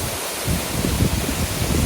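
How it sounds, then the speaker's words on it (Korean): Yangpokpo waterfall in the Cheonbuldong valley of Seoraksan pours in a steady, dense roar of falling water, constant and fairly close with no voices. "양폭포입니다."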